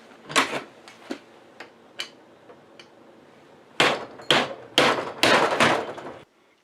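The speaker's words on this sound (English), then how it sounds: "We're going to go back to the old hammer method with the wrong tools." Sharp metallic hammer blows on a Honda CT70 motorcycle, a few scattered strikes at first, then a faster cluster of loud bangs before stopping abruptly.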